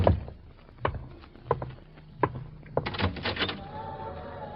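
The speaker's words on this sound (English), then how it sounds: "Don't open that door." Radio drama door sound effect from a 1948 episode of The Shadow: a series of knocks and clunks of a handle and latch, then a creaking, scraping swing of a door opening, close and fairly quiet with no voices.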